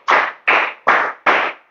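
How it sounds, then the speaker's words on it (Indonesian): A class of students claps in unison four times at an even, steady beat, each clap crisp, loud and close, with no voices over them. "Tepuk 5."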